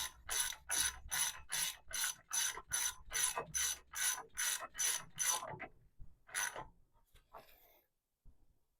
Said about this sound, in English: And this is going to be a 22 millimeter thin wall socket in order to install it the rest of the way.